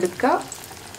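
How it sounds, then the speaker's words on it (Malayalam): Dal vada (parippu vada) balls dropped into hot oil, giving a short burst of bubbling sizzle that quickly settles into a low, steady frying hiss. "ഇത് കയ്യിലേക്ക് എടുത്തിട്ട് എണ്ണയിലേക്ക് ഇട്ട് കൊടുക്കാം"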